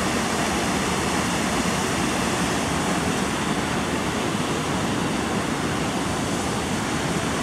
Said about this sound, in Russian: С такой силой спускается водопад.